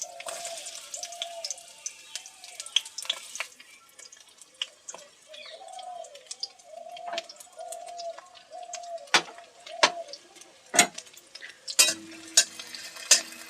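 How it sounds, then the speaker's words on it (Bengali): Sliced onions are added to hot oil and stirred in a pan for paratha, a soft, faint sizzle broken by repeated sharp scrapes and clinks of the spoon, busier toward the end. "তেলটা গরম হয়ে এসছে, এখানে আমি পেঁয়াজগুলো দিয়ে দিচ্ছি।"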